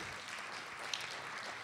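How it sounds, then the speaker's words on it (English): An audience at a briefing applauds, a dense, even wash of clapping from a room full of people, steady and fairly soft throughout. "Let's give them a round of applause"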